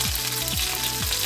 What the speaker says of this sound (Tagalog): Para maglasa lang po siya na prito para sa ating chicken mushroom.